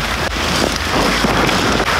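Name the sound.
rain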